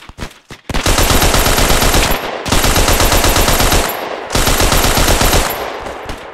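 Sustained machine gun suppressing fire in the WWII shooter Hell Let Loose, three long loud bursts of rapid shots separated by brief pauses, with no talk.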